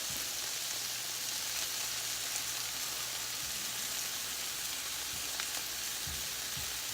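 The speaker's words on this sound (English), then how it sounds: "Now we're gonna use a little powdered garlic, and we're gonna stir that up" Cream sauce with powdered garlic in a pan, a soft continuous sizzle with faint low stirring thumps toward the end, quiet and close.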